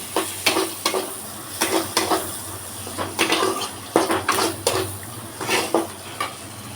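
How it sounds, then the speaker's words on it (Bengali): Chopped onions fry over a medium-to-low flame in a pan with a soft steady sizzle, while a utensil stirs and scrapes against the pan in short irregular clinks close by. "মিডিয়াম টু লো ফ্লেমে এটাকে আমি ভাজবো।"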